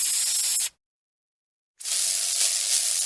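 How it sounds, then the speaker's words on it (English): Two bursts of furniture polish from an aerosol can, a short hiss, a second of silence, then a longer steady spray, close and fairly loud. "Dan took the furniture spray back to the restaurant and sprayed polish on all the glasses."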